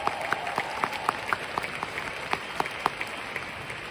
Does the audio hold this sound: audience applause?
yes